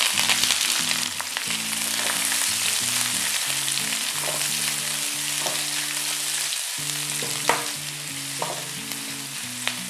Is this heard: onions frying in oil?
yes